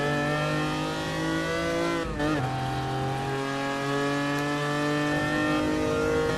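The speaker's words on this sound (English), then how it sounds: "God, I love that engine note." Lancia Stratos in GT Sport, its engine holding a loud, rich, harmonic drone at steady revs, briefly dipping as it shifts gear midway before settling into a sustained, slightly rising note.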